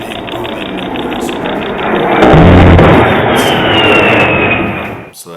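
Jet aircraft roar past a scoring tower, building to a loud, booming rush that peaks midway and then fades, with a thin whine trailing off near the end.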